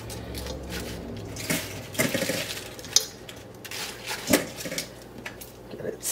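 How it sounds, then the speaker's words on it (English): Fresh spinach leaves go into a pot with a little water, making soft rustling, light metallic knocks and clinks of the pot and utensil, and faint splashing, all irregular and close by. "I'm going to put them all in the pot with a little bit of water"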